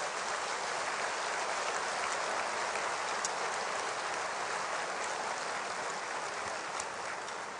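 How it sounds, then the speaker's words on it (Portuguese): A seated congregation in a church auditorium applauds in a continuous, even hiss of clapping that carries on steadily without any speech. "oferecesse um aplauso a Deus pela vida destes homens"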